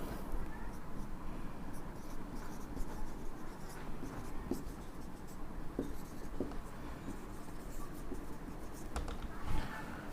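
A pen scratches steadily across paper as a ray diagram for an optics lesson is drawn by hand, faint and close against constant background noise, with no speech.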